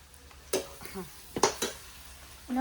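Masala being sautéed in a pan, with a few scraping stirs and faint sizzling, close by and separated by quiet pauses, with brief bits of a voice in between.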